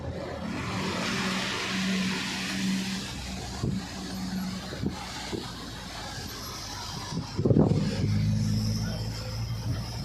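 A car engine hums steadily from inside a vehicle in Mecca, with brief louder knocks and a bump near the end, and a few voices talk faintly under it.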